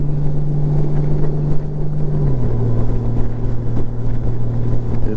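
A Honda Gold Wing DCT motorcycle ridden in sport mode gives a loud, steady engine drone with a pitch that drops as it shifts, over heavy wind rush from riding at speed, and no talking.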